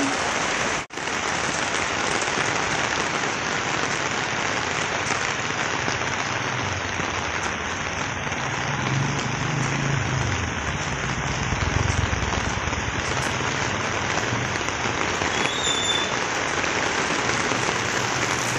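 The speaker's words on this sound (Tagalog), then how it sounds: "Maulan po ngayon dito sa amin sa Green Gate, Imus, Cavite." Heavy rain pouring on a Sunday morning in Green Gate, Imus, Cavite, Philippines: a dense, continuous hiss of rainfall, loud and steady, with no speech.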